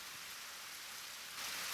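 Steady rain falls as a soft, even hiss that grows slightly louder near the end, faint and continuous with no voices.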